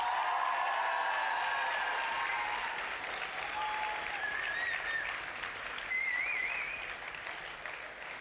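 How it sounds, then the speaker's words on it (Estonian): A school show audience gives a long, steady round of applause, dense clapping sustained for about eight seconds with a few faint voices and whistles rising over it. "Teeme nüüd neile kõigile veel kord ühe suure aplausi."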